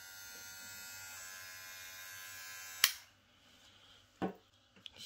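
A Cronier CR 11 trimmer motor buzzes steadily and close for nearly three seconds, then cuts off abruptly, followed by a couple of faint knocks.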